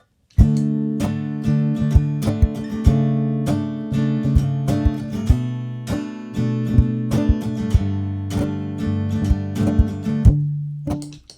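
An acoustic guitar strums a four-chord progression in a down-down-up-up pattern with the top strings muted, steady percussive strokes ringing close and loud with no voices.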